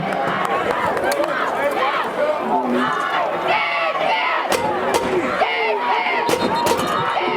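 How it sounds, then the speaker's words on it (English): A packed crowd of Johnson County fans roars at a night high school football game, loud overlapping yelling and shouting that holds steady, broken by sharp bangs and thumps. "You got a pretty good crowd out here tonight from Johnson County."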